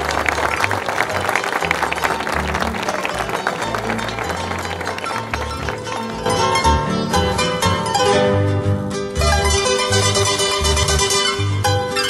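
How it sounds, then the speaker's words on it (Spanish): A festival crowd at the Fiesta del Melón y la Chacra in Guacarhue, Chile, applauds with dense clapping while loud music plays throughout, and the music carries on strongly after the clapping. "Ahí sí, el aplauso entonces."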